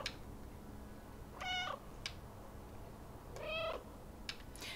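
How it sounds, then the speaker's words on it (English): A cat in the video game Stray gives two short, quiet meows a couple of seconds apart over a faint steady background hum, with a few soft clicks between them. "I love the fact that I can meow on command."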